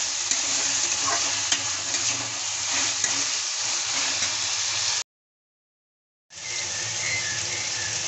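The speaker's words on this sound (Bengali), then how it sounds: "মশলাগুলো আমি ভেজে নেব।" Spices frying with chopped tomato and salt in a pan, a steady loud sizzle with stirring scrapes, cut off by a brief silence before the sizzling resumes.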